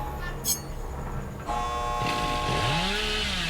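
A killer's chainsaw in the horror video game Dead by Daylight Mobile revs up loudly about halfway through, with a rising, whining motor pitch over steady game ambience.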